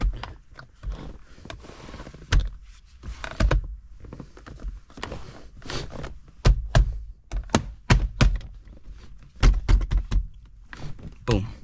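Wiring being pressed and tucked into the interior trim panels of an S197 Ford Mustang: a run of close, sharp plastic thunks and taps, some in quick bursts, with faint rustling between.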